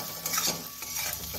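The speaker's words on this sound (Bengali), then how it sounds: "ভালো করে মিশিয়ে দেব" Muri ghonto, a Bengali rice-and-fish-head dish, stirred in a pan as salt is mixed in, giving a short run of soft scraping and sizzling with a faint utensil clink, close and steady, with no voices.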